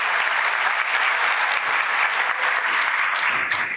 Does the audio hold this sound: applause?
yes